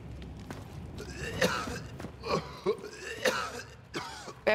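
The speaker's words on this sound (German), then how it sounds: "Wer hustet, du? Ich." A player coughs and clears their throat several times during a Hunt: Showdown match, a handful of rough, close bursts spread unevenly across a few seconds with quieter breathing and faint movement between them.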